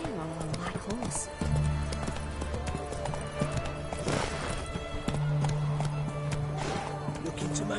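Horse hooves clip-clopping at a steady trot in The Witcher 3, with a neigh and game dialogue voices over the top and a sustained musical drone underneath.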